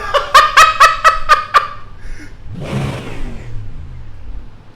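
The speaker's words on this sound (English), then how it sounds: "Now let's rev the engine and see which one sounds better." A Ford GT and a Chevy revved in iRacing: about six sharp, evenly spaced throttle blips, then a longer rising rev that falls away, loud and close with no talk.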